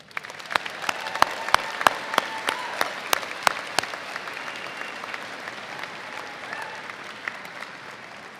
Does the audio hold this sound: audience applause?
yes